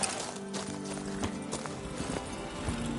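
Hooves of the horse Roach clip-clopping in The Witcher 3 Remastered video game, a quick steady trotting rhythm, close and fairly soft, with a faint neigh and no clear talk.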